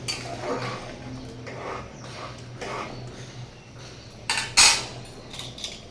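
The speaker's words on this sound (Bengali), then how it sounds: "এবারে আমি প্রেশার কুকারে ঢাকনাটা দেব" A metal pressure cooker lid is handled and set onto a cooker of boiling lentils, giving a few faint clinks and scrapes before one sharp, loud metallic clank near the end.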